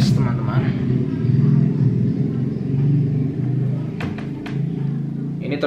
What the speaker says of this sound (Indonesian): Dia akan membuat suaranya lebih elegan dan lebih empuk dengan bantuan resonator.